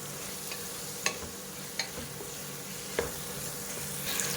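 Potato and drumstick pieces sauté in a pan for a drumstick coconut-milk kurma, a soft steady sizzle broken by a few sharp scrape-clicks of stirring, close by with no talk.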